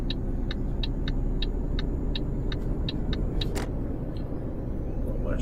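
In Euro Truck Simulator 2, a Volvo FH2012 truck hauling a 27-tonne load cruises along with a constant low engine and road rumble. A series of regular ticking clicks runs over the drone for the first few seconds.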